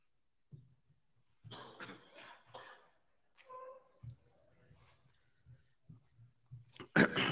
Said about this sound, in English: while I just recover from coughing fit